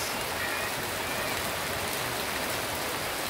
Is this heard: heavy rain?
yes